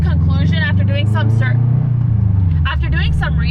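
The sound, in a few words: Subaru WRX engine running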